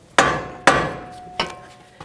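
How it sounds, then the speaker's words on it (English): A hammer taps on the front strut assembly of a 2011-2018 Volvo S60 from below. Three sharp metallic strikes ring out: two hard blows close together, then a lighter third, each ringing briefly. "taking a hammer and I actually tapped it up from the bottom."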